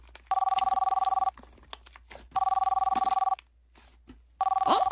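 A telephone rings in three separate bursts of rapid trilling tones, loud and close, with short quiet gaps between them.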